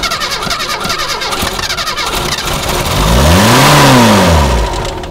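A Renault 12 Toros engine cranks with rapid starter chatter, then catches and revs up loudly before settling, close by, its first start in 14 years.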